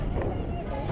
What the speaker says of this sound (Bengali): আমি বসে আছি ট্রলারের ছাদের উপরে, আর অনেকে আছে ট্রলারের নিচে